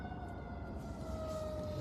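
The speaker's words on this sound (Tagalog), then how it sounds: "Mabilis yung ambulansya dito, ay." An ambulance siren on a street rises and falls faintly as the vehicle speeds past, its wail heard at a distance over steady traffic rumble, with no voices.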